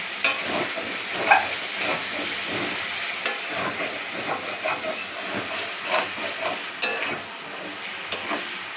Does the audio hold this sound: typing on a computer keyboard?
no